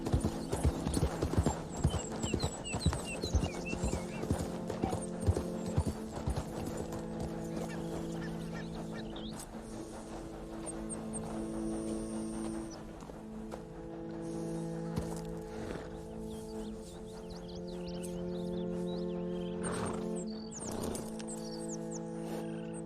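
A horse in Red Dead Redemption 2 gallops with rapid rhythmic hoofbeats that ease into a steady trot, under game music, with a brief short spoken command.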